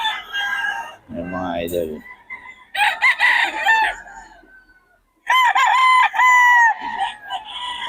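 Roosters crow and cluck at the crowded Bocaue market, with several loud, close crows rising and falling over brief clucks, while someone speaks briefly between them.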